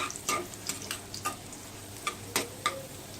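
Garlic with chillies fries in oil for dal khichdi, a soft steady sizzle broken by sharp clinks and scrapes of a spoon stirring the pan at irregular intervals; fairly quiet, no voices.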